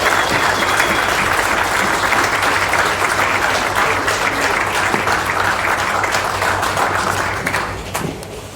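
Loud, dense applause from an audience at a political fundraiser dinner after a speech, sustained for about seven seconds before tapering off into scattered claps.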